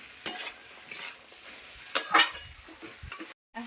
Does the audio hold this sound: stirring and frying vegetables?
yes